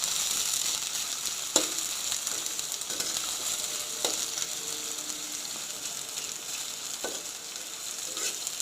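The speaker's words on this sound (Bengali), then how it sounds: "পেঁয়াজ ভাজা হচ্ছে।" Onions fry in oil in a home kitchen, a steady moderate sizzle with a few sharp clicks and scrapes of a utensil against the pan, close and continuous.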